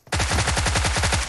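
A Thompson submachine gun fires in PUBG Mobile: one loud, close, sustained burst of about a dozen rapid, evenly spaced shots that carries through to the end.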